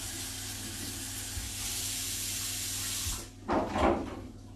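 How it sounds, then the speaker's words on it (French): Tap water rinsing a baking mould in a sink, a steady hiss of running water that ends in a couple of splashy bursts near the close. "je vais vite fait rincer mon moule pour pouvoir mettre le brownie"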